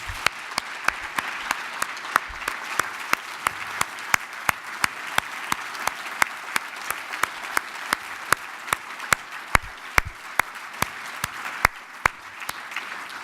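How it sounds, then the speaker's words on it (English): An audience claps steadily at an awards ceremony, a sustained round of applause with dense overlapping claps throughout, fairly close and even in level, with no talking over it. "I think we owe all of these extraordinary servants a heartfelt round of applause."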